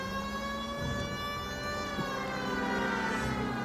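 A police car siren wails steadily in the L.A. Noire video game, a loud continuous tone sliding slowly in pitch with engine rumble beneath, heard alone without talking.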